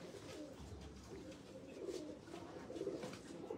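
Pigeons at a loft in Jinnah Garden, Islamabad, giving soft low cooing calls that repeat in gentle bursts against quiet outdoor background noise, fairly faint and with no talking.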